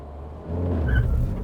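A Mini GP2 launches hard from standstill with traction control on, its engine note rising sharply from a low idle rumble into a loud, close rev within about a second.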